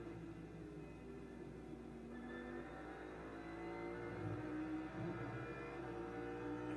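On-board engine note of an Audi R8 LMS GT race car accelerating in an ADAC GT Masters race, a steady loud drone with rising harmonics as the revs climb, heard alone.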